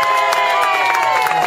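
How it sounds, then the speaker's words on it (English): Crowd at a 4th of July event cheering and clapping for the Santa Ana Fire Department, a loud, dense burst of shouts and applause that is close and continuous. "let's give a big round of applause for the Santa Ana Fire Department"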